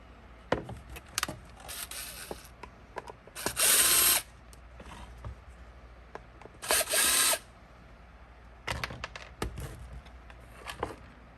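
A cordless power drill backs screws out of a Bissell CleanView vacuum's cyclone assembly, with two loud whining bursts and a shorter third run, scattered with clicks and plastic handling noises in between.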